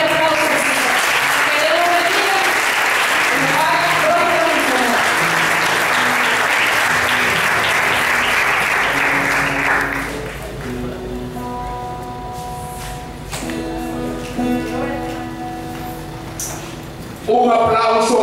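Loud audience applause at a youth church retreat fills the first ten seconds, then fades under church music with sustained tones and a brief burst of clapping at the end.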